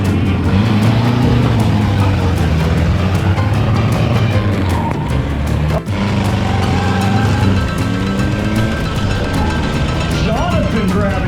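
Drag race car at a national drag racing event accelerating through its gears, a loud sustained engine roar with shifting pitch, while an announcer talks over the noise.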